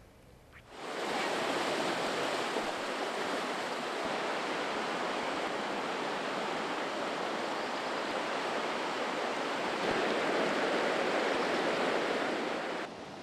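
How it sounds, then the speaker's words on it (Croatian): A flooding Križevica river near Srebrenica surges in a torrent, a loud, steady, broadband roar of rushing water that holds unbroken from start to finish with no voices. "Vodena bujica zaplavila je oranice, prodrla u pomoćne objekte"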